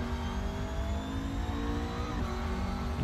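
Race car engine in Assetto Corsa holding a steady, loud drone with slight rises in pitch as it revs, continuous and close throughout.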